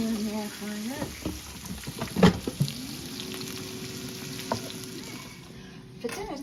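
Sausages frying in an air fryer give a steady crackling sizzle, with a sharp clatter at one point and a sustained tonal hum running beneath.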